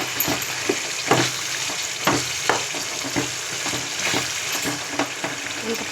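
Green chillies fry in oil in a pan, a steady close sizzle with occasional stirring scrapes and clinks.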